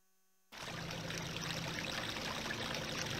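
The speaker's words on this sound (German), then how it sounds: "da kommt ein richtiger Fluss raus" River water in Zelda: Majora's Mask begins abruptly after half a second of silence and then rushes steadily and evenly, a broad, constant flowing hiss with no voices.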